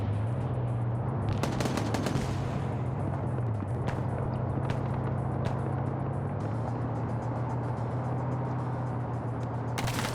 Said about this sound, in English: Now this 50 cal gunner's trying to hit Rafter here.